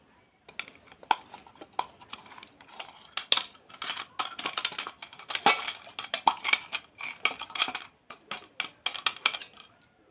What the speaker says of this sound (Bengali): সব একসাথে ভালো করে মাখিয়ে নিন।